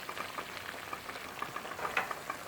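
Oily red pepper pickle simmers in a pot, giving a faint, steady bubbling crackle with soft pops scattered throughout.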